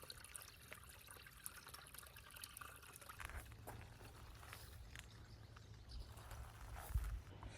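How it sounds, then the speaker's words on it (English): Running water trickles steadily through a woodland garden in Pembrokeshire, Wales, a soft, continuous flow with no voices. "I absolutely adore the sound of running water"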